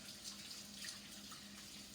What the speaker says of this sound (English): So I just really rub everything, all this meat off under cold water, just to get all that residual off of there.